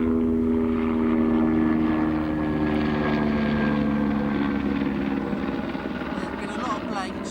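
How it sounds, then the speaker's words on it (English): Helicopter flying low overhead beside a carp fishing lake, a loud continuous rotor drone with steady tones that slowly shift in pitch, apparently with someone speaking underneath. "Bloody helicopter."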